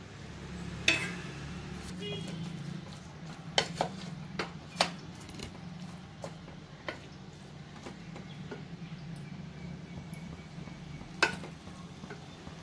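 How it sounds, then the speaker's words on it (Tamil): Tamarind water stirred into millet sambar in a pot, scattered light clinks and scrapes of a ladle against the pot over a low background hum, quiet and close, with soft talk at times. "புளியை ஊற்றி கொஞ்சம் லேசாக கொஞ்சம் கிண்டி விட்டுக்கணும்"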